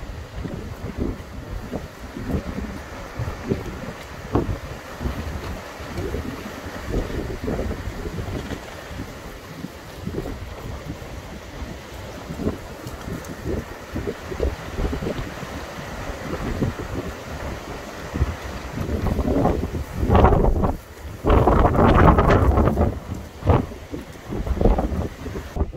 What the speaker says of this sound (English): let me also show you how windy it is